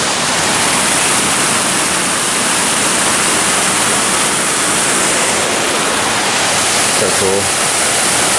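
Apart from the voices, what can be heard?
rushing water near mountain biking trail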